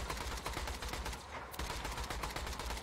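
An E-Tech gun in Borderlands 2 fires as a fast, steady run of rhythmic shots with a brief pause midway, fairly quiet and without speech over it.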